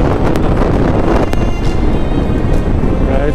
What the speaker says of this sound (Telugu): గాలి మాత్రం చాలా హెవీగా వస్తుంది